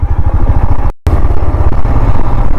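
A motorcycle engine runs steadily in first gear on a downhill stretch of a Morni Hills road, its low, throbbing rumble loud and close, with a brief dropout just before the one-second mark.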